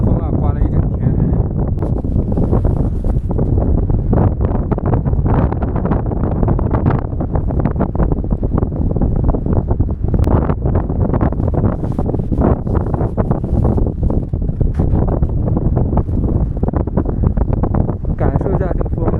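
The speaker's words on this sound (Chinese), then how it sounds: "这个大风啊，刮了一整天。" Strong wind buffets the microphone on the Qinghai-Tibet plateau during a snowy evening, a loud, constant roaring rumble with gusty bursts that persists for the whole stretch.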